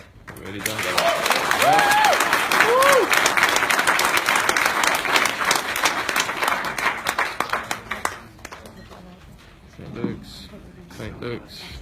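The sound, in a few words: applause at live event audience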